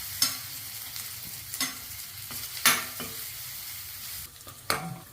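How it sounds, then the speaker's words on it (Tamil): Onions sautéing in oil in a pan for carrot and paneer biryani, a steady soft sizzle broken by several sharp scraping stirs of a spoon against the pan, close and alone with no voices. "பாருங்கள் வெங்காயம் நல்லா வதங்கிடுச்சு"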